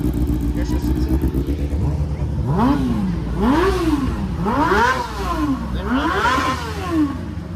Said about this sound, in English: It's idling a little bit low this morning, or this afternoon.